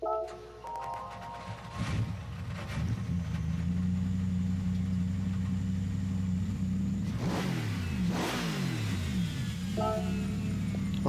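Startup of the 2011 Mercedes-AMG SLS GT3 race car in Gran Turismo 7: the engine cranks, catches with a sharp rev, settles into a loud throbbing idle, then blips again near the end.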